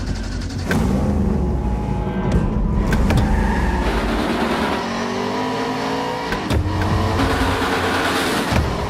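Race car engines in an iRacing eNASCAR simulation at Road America, loud revving and accelerating with gear shifts, pitch sweeps and brief tire squeal along the back straight, with no voices.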